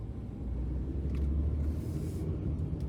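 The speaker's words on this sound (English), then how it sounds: "So here comes a car right there." Low rumble of a car passing near a roundabout junction, a steady close engine and road-noise drone that swells slightly midway, no talking.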